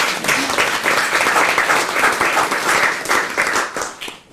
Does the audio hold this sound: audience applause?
yes